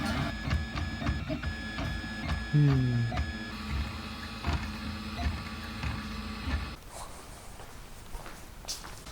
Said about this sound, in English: My printer is printing deformed feet.